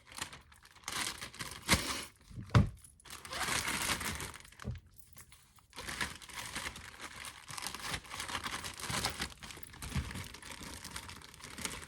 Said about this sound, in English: Just slide them in a plastic bag.